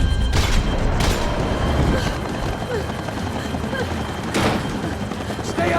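Gunfire in the video game Max Payne 3, a few sharp booming shots spaced seconds apart over a rumbling background, with voices heard in the mix.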